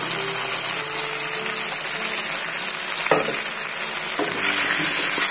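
Chicken fries in a pan as yogurt and fried onion paste are stirred in, giving a loud, steady sizzle broken by a few scraping strokes of the spoon and no speech.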